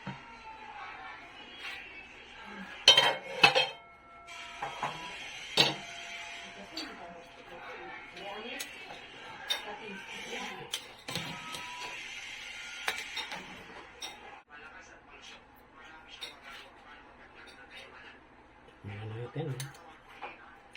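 A ladle stirs beef stew with potatoes in a metal pot for nilagang baka, giving scattered clinks and scrapes, with several sharper knocks early on and soft talk in the background.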